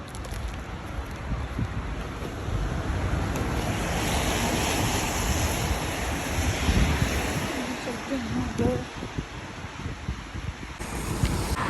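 Strong wind roars outdoors in the rain while someone walks home, with heavy gusts buffeting the microphone in a dense, rushing wash that swells and eases throughout.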